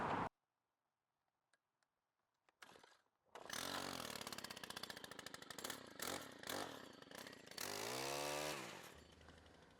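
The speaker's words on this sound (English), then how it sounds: "let's go ahead and start mowing." A lawn mower engine starts after near silence and then runs loud and close while mowing a residential lawn, with its pitch shifting as the load changes near the end.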